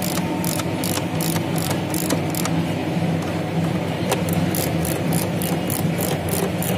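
Ratchet wrench clicking steadily as screws are tightened on the plastic oil filter housing of a Mercedes-Benz C220 or ML 250 CDI engine, loud close pawl ticks in repeated bursts with brief pauses.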